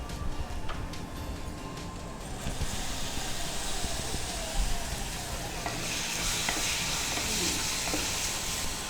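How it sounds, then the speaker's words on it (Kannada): Ground masala paste sizzles and fries in a pan for Kai Pulao or Hasitogari Sambrali gravy, with steady close hiss, scraping stirs throughout and a louder burst of sizzle near the end. "ಓಕೆ ನೆಕ್ಸ್ಟ್ ಈಗ ರುಬ್ಬಿದ ಮಸಾಲೆ ಹಾಕಬೇಕು."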